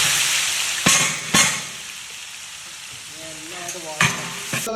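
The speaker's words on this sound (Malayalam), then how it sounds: "ഇതാ ചെമ്പ് ഇളക്കിക്കൊണ്ടിരിക്കണേ" A large pot of biryani being stirred, with scraping and clanking strikes of a utensil against the pot over a faint frying sizzle, while someone speaks briefly nearby.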